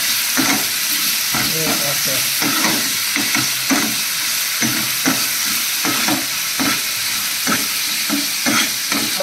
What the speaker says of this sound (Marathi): आपण छान फ्राय करूया कांदा आणि लसूणला